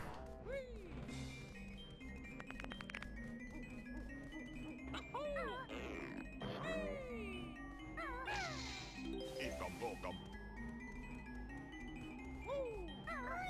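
Cat meows and warbling cries mixed into a busy game soundtrack from Banjo-Kazooie, several rising and falling yowls over steady music with jingly accents, while a person talks intermittently.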